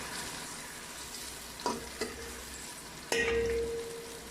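Sliced onions fry in hot oil in a pot for chicken biryani, giving a constant close crackling sizzle. A few metallic clinks from a stirring spoon sound against the pot, and one ringing clang comes late, with no talking.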